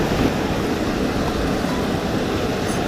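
Water pours steadily out of a spillway into a small deep pool, making a constant close rushing wash with no breaks or voices.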